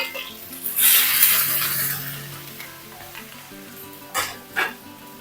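Grated garlic, ginger and finely chopped green chillies hit hot oil with cumin for a spinach and lentil curry, giving a bright sizzle that swells early and then settles. Two short clatters follow near the end.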